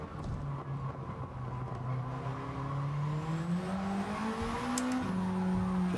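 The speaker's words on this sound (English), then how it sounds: "Just lighting up those tyres." A race car in Gran Turismo 7 runs at speed with its tyres spinning and squealing, a steady loud engine drone rising in pitch through the gears, with no talking.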